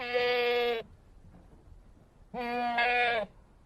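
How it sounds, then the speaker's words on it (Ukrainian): Two long goat bleats, close and loud, separated by a pause of quiet background. "Кози."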